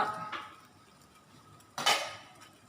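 A metal cooking pot clanks onto a stove in a home kitchen while mushroom curry is being made, two close clattering hits, a light one early and a louder clank near the end, with no talk.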